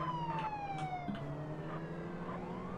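A police siren in the MTA multiplayer game wails in a steady falling and rising tone, moderately loud and continuous, with engine rumble beneath and no talk.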